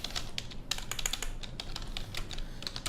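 Rapid clicking of a computer keyboard being typed on, uneven bursts of keystrokes, close and fairly quiet with no voices.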